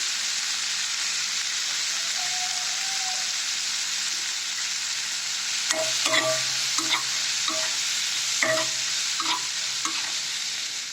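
Potato pieces frying in oil in a pan, a steady bright sizzle throughout with a series of scraping stirring sounds in the second half, close and loud.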